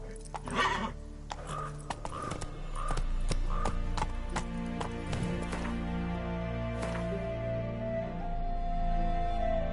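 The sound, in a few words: horse Roach galloping in The Witcher 3 video game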